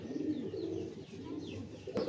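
Close, low, throaty cooing from male Swa-Chandan pigeons in a rooftop aviary, a continuous rolling burble of overlapping calls with no talking.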